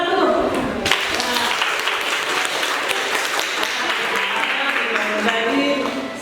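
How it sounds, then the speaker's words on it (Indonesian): A classroom full of people claps steadily for several seconds after a quiz answer, a dense, continuous burst of applause that fades out at the end. "Bagus, tepuk tangan dulu."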